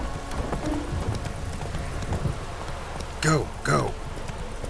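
Roach the horse's hooves clip-clop steadily through The Witcher 3, close and clear, under a voice. Two short sharp bursts stand out near the end.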